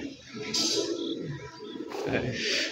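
Mashal pigeon (a pet flying breed) cooing softly in a low, throaty burble, close by, amid ambient noise and brief brighter chirps.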